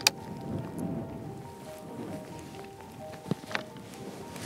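Strong wind blows outdoors on a spring buck hunt in Germany, a low rumbling buffet with gusty swells across the clip, plus a few faint clicks and tonal hums.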